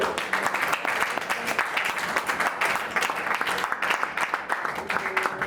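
A church congregation claps and cheers during a service, with dense applause running throughout and beating in a quick, even rhythm.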